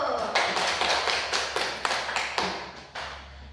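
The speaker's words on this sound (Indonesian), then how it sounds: "Oke, tepuk tangan dulu." Rhythmic hand clapping from an early-grade classroom, about eight sharp, evenly spaced claps at close range over a low steady hum.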